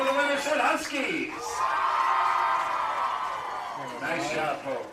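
Fans at a girls' state high school softball game cheer for the Winterset Huskies, a moderate wave of shouting and whooping that rises mid-clip and fades, mixed with voices.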